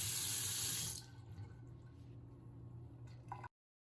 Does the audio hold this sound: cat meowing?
no